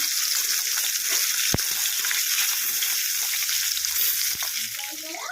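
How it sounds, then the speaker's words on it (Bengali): Hilsa fish sizzles steadily in hot oil, a continuous crackling hiss close by with a couple of brief clinks. "মাছটাকে আমি উল্টে পাল্টে ভেজে নেব"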